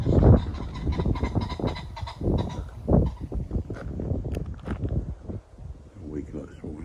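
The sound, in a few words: birds calling at dawn, likely pheasants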